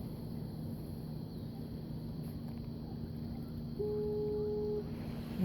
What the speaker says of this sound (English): There's that foghorn.